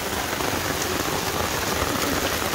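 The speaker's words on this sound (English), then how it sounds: "Rain. This is what I'm talking about." Heavy rain pours steadily during a storm on a night in Illinois, a dense, loud, continuous hiss of drops striking surfaces with no break across the whole stretch.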